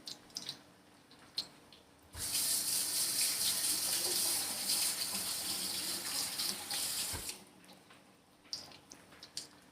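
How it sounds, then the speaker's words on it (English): Running tap water pours steadily over hands being rinsed in a kitchen sink for about five seconds, fairly close and loud, with quieter clatter and handling noises before and after. "I'm just gonna go rinse my hands for a second"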